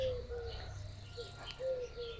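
A bird gives two sharp, sustained alarm calls, one near the start and another later, over a low steady background hum, in a village.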